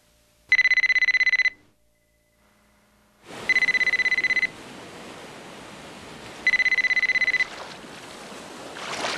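A telephone rings in three long electronic trills with silent gaps between, the later rings set over a steady background hiss.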